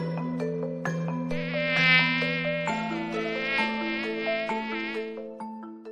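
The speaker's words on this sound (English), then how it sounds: "Mosquito." A mosquito buzzes in a high, thin whine that wavers in pitch, alone and fairly close, across several seconds.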